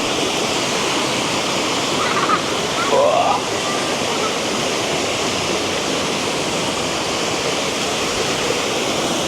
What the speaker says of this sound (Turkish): Busra şelalesi.